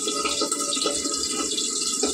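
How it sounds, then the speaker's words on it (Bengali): Fish full of roe fry in hot oil in a pan, hissing continuously with sharp pops and crackles, loud and close, with no one speaking. "মাছগুলো খুব ফাটছে যেহেতু ডিম আছে"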